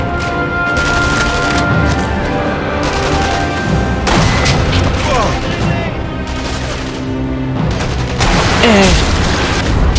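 Heavy gunfire and booming explosions fill a Sniper Elite V2 firefight, loud and sustained with bursts of rapid shots and impacts, while a voice briefly murmurs.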